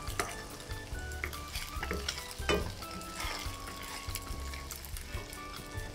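Tofu pan-frying to golden brown in a hot pan, a continuous close sizzle and crackle with occasional light clinks of a utensil against the pan.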